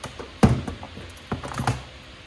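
A transducer connector is plugged into a Titan Wagner Gen 3 paint sprayer pump, making a few small plastic clicks and soft knocks, quiet and close, with no talking.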